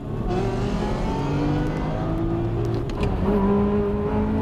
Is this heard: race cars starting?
yes